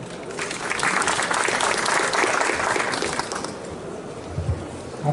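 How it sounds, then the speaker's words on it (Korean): Audience at a supercomputing and 3D printing talk bursts into steady, dense applause welcoming the next speaker, loud for several seconds before thinning out at the end. "네, 큰 박수로 모시도록 하겠습니다."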